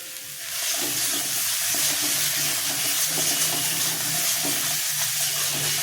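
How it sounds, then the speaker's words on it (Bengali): Ridge gourd and potatoes tipped into a pan of fried spices for a fish curry, a sudden loud sizzle that swells and holds steady and hissing, close up, with no talking. "মশলাটা কষানো হয়ে গেছে আমি ঝিঙ্গে আলু ছেড়ে দিলাম"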